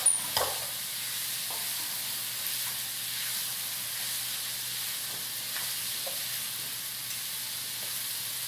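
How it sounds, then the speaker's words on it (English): Green beans hit a hot stir-fry pan for teriyaki green beans, giving a steady broadband sizzle and hiss with occasional faint stirring clicks, continuous and fairly close, with no talking. "And now's the point we're going to be adding in the green beans."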